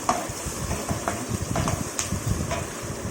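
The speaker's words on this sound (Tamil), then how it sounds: "நல்லா வறுத்துக்கணும்." Green chillies, carrot and onion fry in a pan for khichdi, a steady sizzle broken by the scraping and clatter of stirring at irregular moments, close up.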